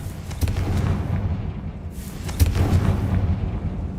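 A Confringo spell blast in a Harry Potter video game: rumbling explosive booms with crackling bursts, a continuous loud roar swelling twice, no voices.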